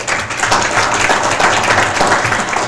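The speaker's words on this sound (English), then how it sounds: "Give Ed a round of applause" Loud, dense applause from an audience at a rally and town hall meeting, a continuous wash of many hands clapping for a couple of seconds.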